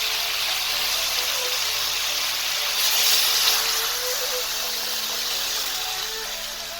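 About 1.5 litres of water is poured into a cooking pot of browned turnips and meat for shaljam gosht, making a steady, close, fairly loud gushing rush that swells briefly midway.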